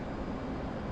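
A steady, broadband airplane engine roar in the DCS flight simulator video game, a loud, even drone with no change in pitch.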